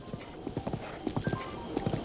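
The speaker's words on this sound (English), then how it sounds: "This is obviously a horse that you're manning. It's from gameplay" A horse's hooves clip-clop in a steady trotting rhythm while a rider travels across open terrain in the video game The Legend of Zelda: Breath of the Wild, the beats distinct and fairly close.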